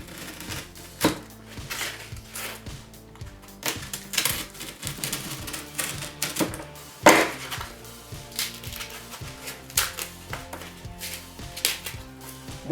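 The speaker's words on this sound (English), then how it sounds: "Then take a razor knife and cut down those lines." A razor knife slicing through foam along marked lines for a model airplane fuselage, with repeated short scraping and tapping cuts in an uneven rhythm, close and fairly loud, with no voices.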